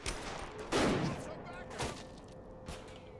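Gunfire in Saints Row: The Third, a few sharp shots spaced over a few seconds, the loudest burst early, with talking in the background.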